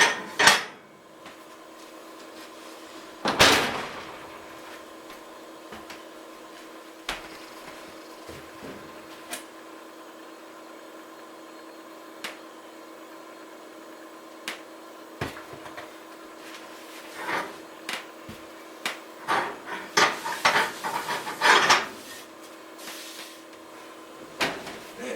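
Heavy cast iron skillets clank and scrape as they are pulled from a cupboard and handled, with scattered metallic knocks and a cluster of rattling clatters near the end, in a quiet room.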